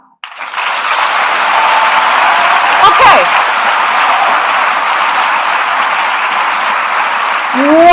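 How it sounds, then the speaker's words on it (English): An audience at a live forum in Kigali bursts into sustained applause, a dense, loud wash of many hands clapping that holds steady for several seconds, with a single voice briefly speaking over it. "please let me hear you clap"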